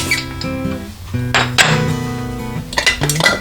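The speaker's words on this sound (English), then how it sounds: "I'm going to take a pizza cutter, and we're going to slice it." A pizza cutter rolls through homemade noodle dough on a hard surface, giving a few close clinks and scraping taps in short, uneven strokes.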